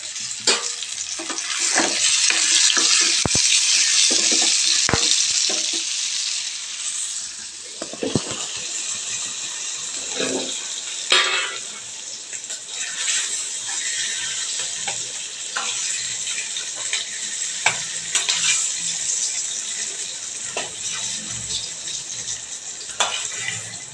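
Paneer frying in a pan, a loud steady sizzle that dominates at first, then drops to a lower crackle with scattered clinks and scraping.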